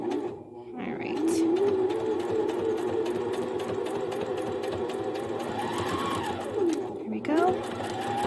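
A sewing machine runs continuously while stitching a fabric kitchen scarf, a close, steady whirring hum that briefly pauses and restarts with a back stitch near the end; a voice speaks briefly at the start.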